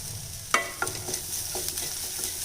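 Ingredients sautéing in a pan for a lunch-box rice dish, with a soft steady sizzle and a few sharp scraping clicks of a spatula stirring near the start.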